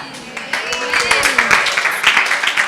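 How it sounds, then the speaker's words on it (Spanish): An audience at a seminar on biblical worldview breaks into loud, sustained applause, a dense patter of clapping that holds steady for several seconds while a voice speaks over it. "Fuerte aplauso."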